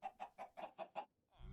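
A chicken in the Sky Factory 5 video game clucks six times in a quick, even rhythm, close and clear, before a soft rustle at the end.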